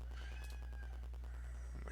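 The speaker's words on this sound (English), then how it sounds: "the cat is begging me for a" A house cat meows and begs in a small room, a few short plaintive calls near the start that trail off, quiet over a steady low hum.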